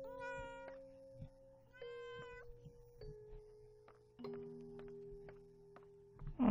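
A cat meows in the horror video game Layers of Fear: Inheritance, a few clear, tonal, drawn-out cries spaced apart over quiet background sounds.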